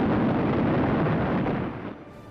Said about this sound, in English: And a moment later, the explosion went off.